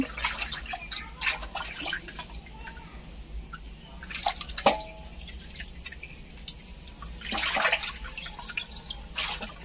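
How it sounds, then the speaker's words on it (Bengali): Running water splashing while raw meat is washed by hand for a home birthday meal, faint and intermittent with clustered spatters over a quiet background and no talk. "এই যে এখানে আমার বোন চলে এসেছে মাংস ধোয়ার জন্য।"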